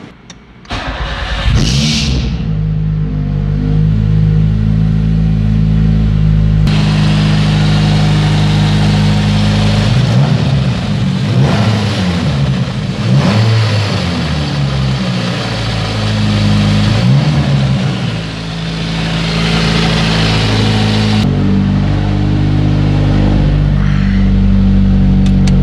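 A Nissan B13 with a turbocharged GA16DET engine and a new stage 3 clutch cranks and starts, then settles into a loud, steady idle close up, with a few rises in revs along the way.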